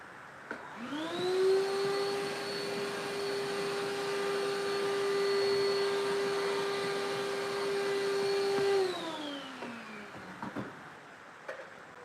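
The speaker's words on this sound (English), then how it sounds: "Battery powered vacuum, so I haven't used it yet." A battery-powered vacuum cleaner in a storage space whirs up, holds a steady high-pitched whine for about eight seconds, then winds down, alone and close by.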